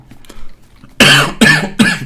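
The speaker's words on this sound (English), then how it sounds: "I'm coughing a little bit" Three harsh, loud coughs in quick succession, close by, after a brief quiet moment.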